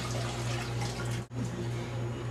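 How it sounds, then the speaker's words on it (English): Water pours steadily into a pot for lentil soup, a continuous rushing splash broken by one brief pause midway, close and fairly loud with no talking. "we are going to add our water, and then we're going to add our lentils."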